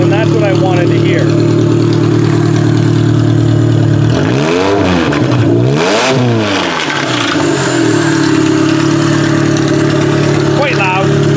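A Toyota Camry built for a demolition derby runs loudly in a shop, its engine droning steadily, then revving up and down with sweeping pitch changes before settling back to a rough idle.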